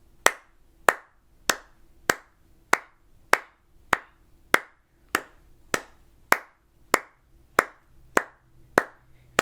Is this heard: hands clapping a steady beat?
yes